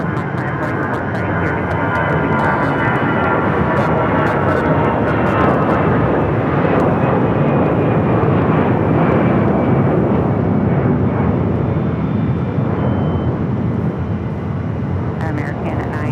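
An airliner takes off from runway 7 left at Phoenix Sky Harbor Airport with a loud, broad jet roar that holds strong for the whole stretch, rising and then easing slightly, with radio chatter underneath.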